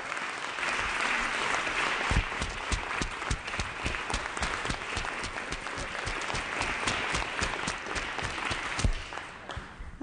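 A room full of people applauds at a state assembly floor session to welcome community college students, steady loud clapping from a large audience that holds for about ten seconds before tapering off at the end.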